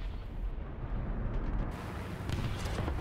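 A Sherman M4A1 tank blown apart in War Thunder, a loud, dense roaring blast that rumbles and crackles for a few seconds without letting up.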